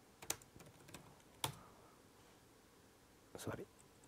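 Several quiet, close keystrokes tap on a computer keyboard as a command is typed, coming in small irregular clusters over faint background hiss.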